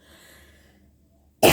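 A single sharp throat-clearing cough bursts out at the very end, loud and close, following a quiet stretch with only faint background hum.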